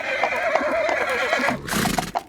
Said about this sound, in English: And Buffy the horse.